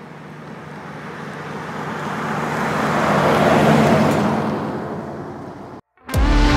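A car revving and spinning its wheels in loose dust during an outdoor photo shoot, a broad rising roar of engine and scattering grit that swells, then cuts off abruptly before a brief loud burst.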